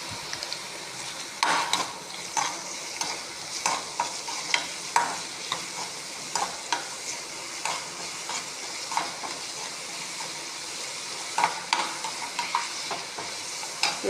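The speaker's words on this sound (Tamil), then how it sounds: "வெங்காயம் நல்லா வதங்கட்டும்" Onions sautéing in hot oil in a pan with salt, a steady close sizzle punctuated by repeated scraping and tapping of a spoon stirring against the pan, no speech.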